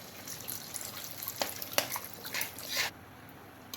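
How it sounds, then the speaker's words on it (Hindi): Water poured from a vessel into tomato puree in a pan for lauki kofta curry, a short splashing and trickling pour with a few sharp clinks, close and fairly quiet. "अब हम इसमें पानी ऐड करेंगे।"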